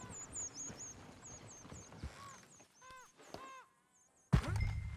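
Horse hooves clip-clop and a horse whinnies in Red Dead Redemption 2, with irregular hoof thuds, a whinny rising over them, then a sharp thwack near the end, set among quieter game ambience.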